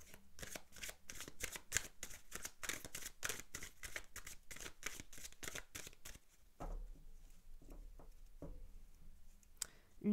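Tarot cards being shuffled and drawn, a fast close run of crisp riffling flicks for several seconds, then quieter single card handling, with a voice speaking softly in the background.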